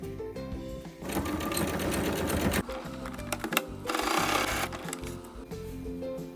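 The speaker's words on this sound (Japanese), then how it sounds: "キルト生地を半分に折って、端と端を縫い代1センチで縫います。" A sewing machine stitches a 1 cm seam along the edge of folded quilted fabric for a soft fabric basket, its loud, rapid mechanical chatter running almost continuously with brief changes in pace.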